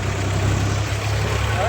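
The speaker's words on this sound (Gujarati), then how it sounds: "હવે ટ્રેક્ટર લઈ જાય છે ઘરે." A diesel tractor engine idles steadily up close, a low continuous rumble with a throbbing pulse that holds even throughout, with no pauses or revving.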